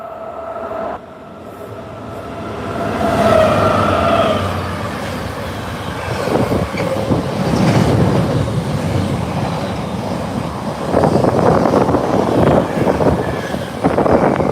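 Double-headed train led by two British Rail class 90 electric locomotives roaring past close by, a loud sustained rumble and rattle of wagons that swells and holds for the whole stretch, with little else audible.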